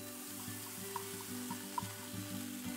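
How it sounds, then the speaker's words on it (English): Crumbled tofu sautéing in avocado oil in a nonstick pan over medium heat, a faint steady sizzle with light periodic scrapes and small clicks over a low hum, no voices. "Saute for 3 to 4 minutes."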